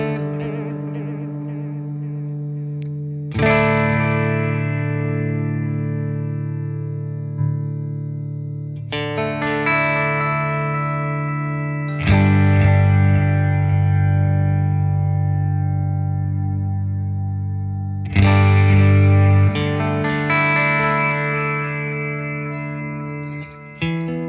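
An electric guitar plays through a Keeley ECCOS delay looper set to a vibe blend. Several strummed chords ring out at spaced intervals, each one sustaining with a wavering, modulated shimmer. The sound is close and loud, with no voices.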